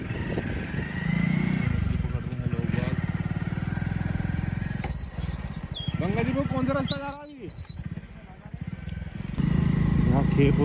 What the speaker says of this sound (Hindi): मोटरसाइकिल ही निकल सकती है केवल